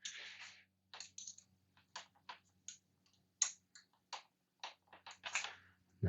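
A metal 4mm fastener being tightened on a motorcycle brace crossbar for a 2021 Pan America Special, heard as a string of short, close, separate clicks and ratchety ticks with brief pauses between them.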